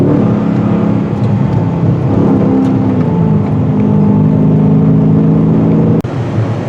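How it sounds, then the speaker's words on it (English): 2023 Dodge Challenger 392 SRT V8 engine pulling hard on an open road, a loud, steady, deep rumbling drone with rising pitch as it revs, heard from inside the car. "Hear those nice sounds you don't get off a V6 engine, only a nice V8."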